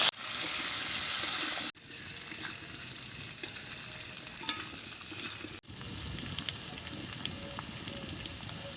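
Potato and papaya pieces fry in hot oil in a pan for a village-style rohu fish curry, making a loud steady sizzle that hisses hardest at first, then settles into continuous crackling with brief cuts, close and without talk.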